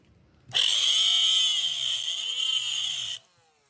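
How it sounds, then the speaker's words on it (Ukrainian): An angle grinder whines loudly against nickel metal for about three seconds, a sustained high-pitched grinding that starts abruptly and cuts off. "Ще й болгарка зараз здохне."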